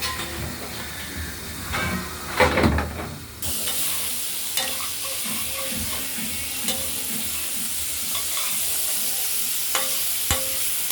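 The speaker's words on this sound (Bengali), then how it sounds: "চাপ চাপ করে উচ্ছে ভাজা চলছে।" Bitter gourd chunks sizzle steadily in hot oil in a wok, with occasional scraping and stirring against the pan, close and continuous throughout.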